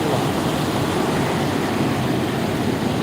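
Floodwater rushes through a village river in the monsoon, a loud, steady broadband roar of churning water with wind buffeting the microphone.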